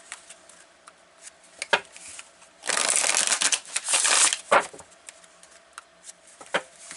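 Oracle cards are handled with scattered soft taps and rustles, then riffled and shuffled in a dense, crisp burst lasting over a second, followed by a few more flicks and slides, close up and with no talking.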